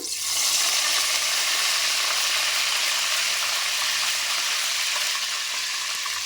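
Cut green chilies and mint leaves frying in hot oil, a steady, close, loud sizzle that holds evenly throughout with no talk.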